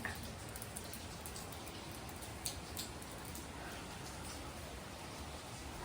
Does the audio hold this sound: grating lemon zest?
no